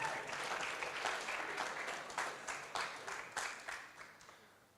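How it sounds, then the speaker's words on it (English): An audience at a Brisbane fight night applauds boxer Alexander Mraovic, the Austrian Bull, with a dense burst of steady clapping that thins and fades toward the end. "Ladies and gentlemen, round of applause, please, for Alexander Mraovic."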